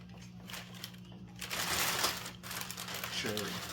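Tissue paper crinkles and rustles as a sneaker box from Foot Locker is unwrapped, with a burst of louder crumpling in the middle and a brief voice near the end.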